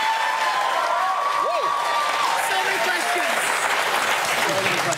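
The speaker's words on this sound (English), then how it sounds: "You started clapping before it was even over" A cinema audience at an Avengers: Infinity War screening bursts into loud, sustained clapping and cheering that fills the room, with voices shouting and whooping throughout.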